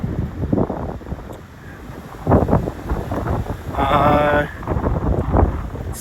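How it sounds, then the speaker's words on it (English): Gusty wind buffets a phone microphone while walking along a main road, rising and falling in rough bursts with a brief whistling gust; a voice talks intermittently. "Still, it's gusty"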